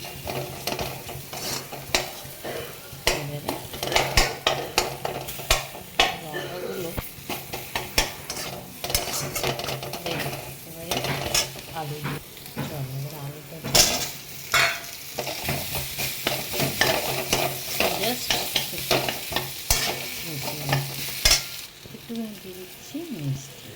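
Spices stirred and fried in a pan for a Bengali fish curry with cumin and red chilli powder, a steady sizzle under repeated scraping and clinking of a spoon against the pan, close and continuous, with some talk over it.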